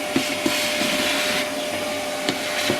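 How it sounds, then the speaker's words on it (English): Vacuum cleaner running steadily while picking up loose material on a model railway layout being rebuilt, a continuous near whine with a few brief knocks from debris or the nozzle. "you go down with your vac. This is one I use."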